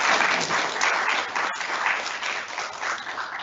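At a school's 27th Annual Day, the audience gives the headmistress sustained applause, a full wash of many clapping hands with a brief dropout partway through before it continues evenly.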